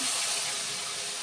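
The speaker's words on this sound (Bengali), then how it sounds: "তো দেখো আমার জলটা কিন্তু ফুটতে শুরু করেছে" Water poured over a mustard-and-yogurt spice paste for a fish curry begins to boil in a pan, making a steady, close, bubbling hiss with no pauses.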